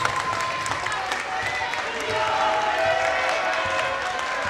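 Crowd at a high school basketball game cheering and applauding steadily, a broad wash of clapping and voices that swells slightly midway, with speech heard over it.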